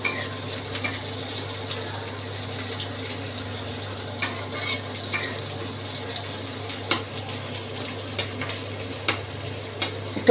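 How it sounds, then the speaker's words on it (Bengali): Sliced onions fry in plenty of oil for a fish curry with drumsticks, a quiet low sizzle beneath a steady hum, punctuated by sharp stirring clinks against the pan. "পেঁয়াজটাকে ভালো করে ভাজবো।"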